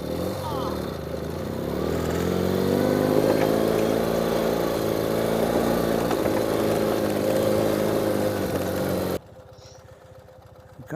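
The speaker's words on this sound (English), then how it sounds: "Watch the GS go up the hill." A GS motorcycle climbs a hill on a bridle track, its engine droning steadily and rising in pitch as it works uphill, then cutting off abruptly near the end.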